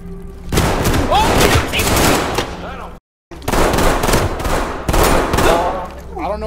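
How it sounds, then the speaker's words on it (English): A grenade blast and bursts of gunfire in the tactical shooter Ready or Not, set in dorms; loud, dense rapid shots fill the clip, broken by a brief silent gap, with shouting voices mixed in. "Oh, I'm throwing a grenade!"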